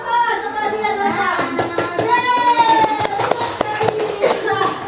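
A class of children doing the 'tepuk wow' clapping chant, sharp rhythmic hand claps over voices chanting together, loud and close.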